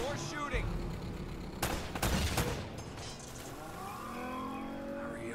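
Gunfire in the video game Uncharted: Drake's Fortune: a cluster of loud, rapid shots in the middle of the clip, over a steady droning game background.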